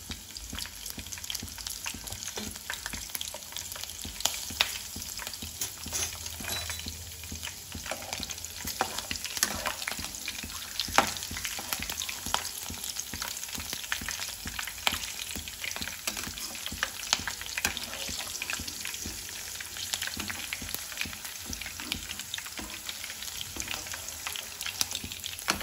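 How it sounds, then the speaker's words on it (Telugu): Peanuts and four green chillies fry in oil for a spicy amaranth-leaf powder. A continuous, even crackling sizzle holds for the whole stretch, with faint scattered pops and no voices. "సో అదే నూనెలో పల్లీలు పచ్చిమిర్చి 4 వేసుకున్నాను"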